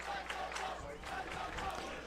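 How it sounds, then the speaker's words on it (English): Fired-up Husky student section cheering and yelling at a 2018 high school football game, West Lafayette at Hamilton Heights, a steady roar of crowd noise with scattered shouts throughout. "Husky crowd's pretty fired up here. This student body's not a lot of numbers, but making a lot of noise."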